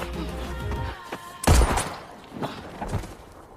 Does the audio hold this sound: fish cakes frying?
no